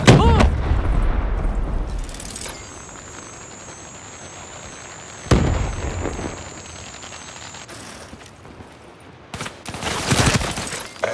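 Grenade blast and gunfire in the video game Black Ops 3, a heavy opening burst, another sharp shot midway and a cluster of loud bangs near the end, with quieter stretches and a looping electronic tone between.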